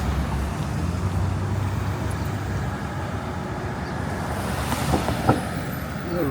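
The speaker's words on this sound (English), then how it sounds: "School bus." A school bus passes along 7th Avenue in New York City amid steady roadway rumble and other traffic, with a brief louder swell near the end.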